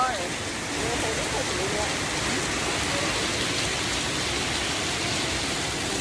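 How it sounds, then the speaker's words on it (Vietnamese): Heavy rain pours down in a steady, dense hiss that stays loud and constant throughout, with a voice faintly present beneath the downpour. "Mưa to quá này. Mưa to."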